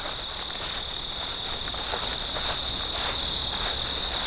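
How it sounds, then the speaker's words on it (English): Dense, steady chirring of crickets and other insects fills the air, continuous and fairly loud, with faint rustling underneath. "Late summer the birds get quiet and the insects get loud."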